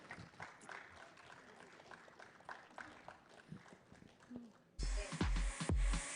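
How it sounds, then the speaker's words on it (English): A conference audience applauds during an on-stage honoring at a deep tech in travel and transportation event: dense, steady clapping that swells abruptly into a much louder, fuller burst near the end. "Can we have a huge round of applause?"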